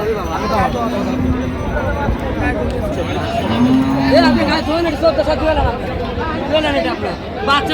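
Improved-breed dairy cows and calves at Raniganj cattle market in Dinajpur, with two drawn-out moos, one early and one louder midway, rising over the steady chatter of a busy crowd.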